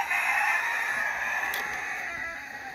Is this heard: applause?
no